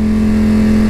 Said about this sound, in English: highway to clutchless engine braking, downshifts into a turn